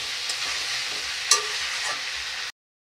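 Raw jackfruit being stir-fried with fried potatoes in a pan, a close steady sizzle with a brief louder scrape of stirring midway, then stopping.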